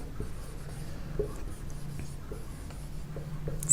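Pen or pencil writing numbers on paper, a soft close scratching with short repeated strokes, quiet and steady throughout.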